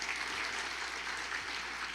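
A church congregation at a Purim celebration claps together in a dense, even burst of applause lasting a couple of seconds.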